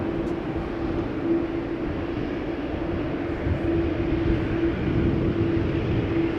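KLM Boeing 787-10 at Amsterdam Schiphol Airport, a loud continuous engine roar with a steady hum underneath, constant and close throughout.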